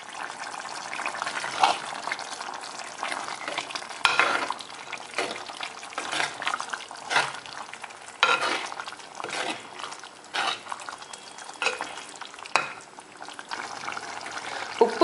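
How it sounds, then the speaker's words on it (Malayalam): Kerala mutton curry being stirred in a pan, wet bubbling and sloshing with irregular scraping strokes and clinks of the spoon, continuous and fairly close. "നമുക്കിനി ഇതൊന്ന് ഇളക്കാം."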